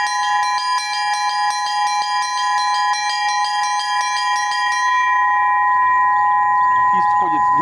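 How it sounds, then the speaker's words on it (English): First and second Russian church bells ring together in a fast, steady repeated pattern of bright metallic strikes that stop partway, leaving a long fading hum. "Первый и второй колокол. First and second bells."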